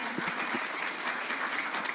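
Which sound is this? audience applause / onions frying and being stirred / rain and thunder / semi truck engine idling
audience applause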